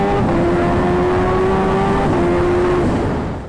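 A supercharged Kawasaki Ninja H2 engine revs high and steady, a loud sustained whine holding pitch for about three seconds before dipping briefly and fading out, with no voices over it.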